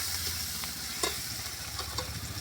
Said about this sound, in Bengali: এখানে শুকনো লঙ্কা আর জিরে বাটাটা দিয়ে আমি ভালো করে ভেজে নেব